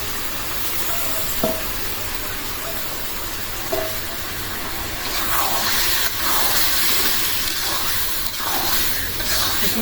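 Rice and red lentils fry with spices in a pan for khichuri, giving a steady close sizzle and hiss with occasional stirring scrapes throughout.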